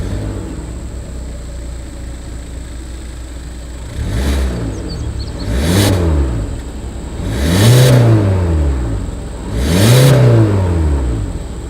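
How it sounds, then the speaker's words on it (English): A 2020 Hyundai Elantra, non-Sport trim, idles with a steady low exhaust drone, then gives four revs that rise and fall, each louder than the last, sweeping up and settling back to idle. "As always, here is that exhaust clip."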